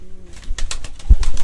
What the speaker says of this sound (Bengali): এই যে মুখী কবুতর দেখতে পাচ্ছি, সিলভার মুখী